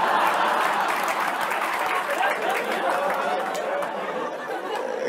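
A crowd of Dhanteras shoppers packs a gold jewellery shop in Jalgaon, a steady din of overlapping chatter and murmuring voices filling the room throughout.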